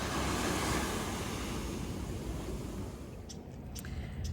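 Surf at a Sydney beach washes in a broad, steady hiss and rumble, waves breaking continuously and close, gradually easing slightly, with no voices.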